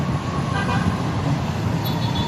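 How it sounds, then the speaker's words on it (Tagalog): Heavy traffic on EDSA, a dense steady roadway rumble of engines with a car horn tooting briefly near the end. "Grabe traffic oh."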